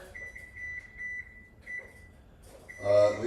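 Kitchen timer beeping in a steady run of short, bright electronic beeps that pauses once and starts again, fairly close, followed by a louder burst of clatter and movement at the end.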